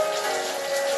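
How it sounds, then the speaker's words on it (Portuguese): Light rain patters steadily and softly outdoors, a continuous even hiss of drops on surfaces with a faint steady tone running underneath, no voices present. "Também tá chovendo, ó a chuvinha gostosa."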